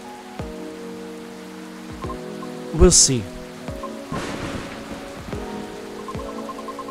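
Rain in the video game Coffee Talk, a steady soft patter throughout, broken midway by a brief sharp crack of thunder, with a short spoken line near the start.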